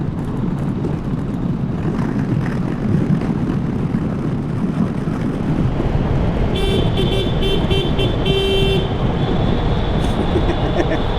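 Over steady road and engine noise, a vehicle horn sounds a few short toots and then a longer honk.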